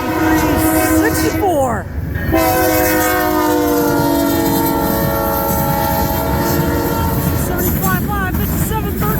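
A CN freight train in Ladysmith, Wisconsin sounds its multi-tone horn in long, loud blasts over the rumble and clatter of passing railcars, with a short break and a second horn sequence near the end, under faint talk.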